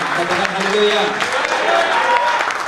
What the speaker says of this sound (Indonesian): Berikan tepuk tangan yang lebih baik bagi Tuhan